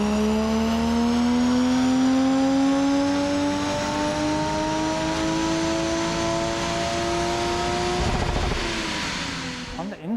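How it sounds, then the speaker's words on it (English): A Toyota Cresta strapped to a dyno, its engine holding a loud, steady rising drone with strong harmonics that climbs slowly in pitch before dropping off near the end. "There's a Cresta on the dyno at the moment."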